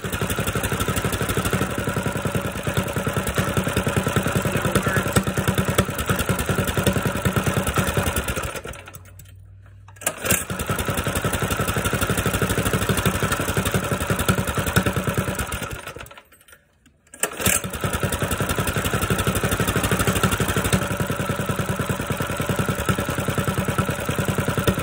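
A small engine with a recoil starter runs with a steady, close, rattling drone that cuts out briefly twice before resuming.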